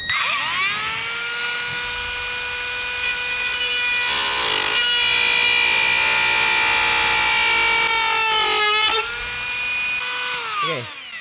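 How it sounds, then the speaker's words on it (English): A Dremel rotary tool cuts through a stripped bolt on a car, a loud, high whining grind held steady near the microphone, with brief dips in pitch as it bites and a spin-down at the end. "Grab your Dremel. I'm just gonna cut straight."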